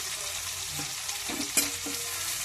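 Cheeramenu, tiny fish, frying in hot oil in a pan, giving a steady broadband sizzle with a few stirring scrapes and one brief sharp clatter near the middle.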